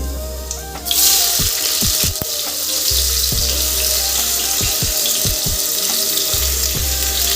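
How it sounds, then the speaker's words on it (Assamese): Sliced onions go into hot cooking oil in a pan, setting off a loud, steady hissing sizzle that surges suddenly and holds, with a low hum and a few clicks and knocks beneath it, close up. "এতিয়া পিঁয়াজখিনি ঢালি দিম।"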